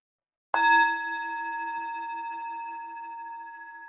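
Meditation bell struck once over a Zoom call, a clear metallic strike followed by a long ringing tone that fades slowly, with nothing else heard.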